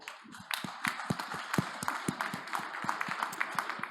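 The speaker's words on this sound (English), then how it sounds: "And let's give them an applause." Scattered, distinct claps from a small audience at a startup pitch event in Hamburg, fairly quiet and uneven, with individual hand strikes easy to pick out over several seconds.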